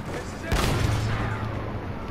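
A sharp, loud gun blast fired at a tank in Battlefield 1, followed by a long low rumbling decay and ongoing battle noise, with voices in the background.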